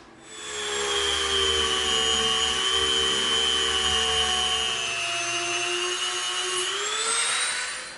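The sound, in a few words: Dremel rotary tool cutting a trench in EVA foam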